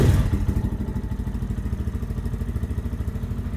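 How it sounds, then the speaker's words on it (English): A Lifan KPM 200 motorcycle fitted with a new exhaust idles close by, its single-cylinder engine thumping in a quick, even, steady rhythm. "let's see what it sounds like with the new exhaust on it"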